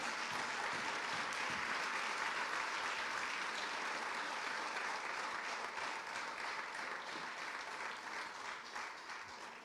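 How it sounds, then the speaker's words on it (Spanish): A church congregation claps in praise of the Lord, loud and continuous applause that fades slightly toward the end with no talk over it. "De palmas de alabanza al Señor"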